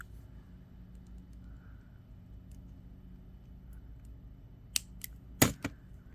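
Scissors snip off the tail of beading cord, a few sharp close clicks near the end after quiet background.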